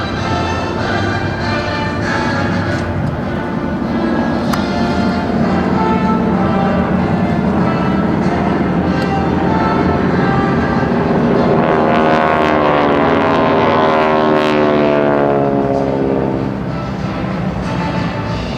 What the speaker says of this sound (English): Caveman flight will roll in for a very unique high-angle strafe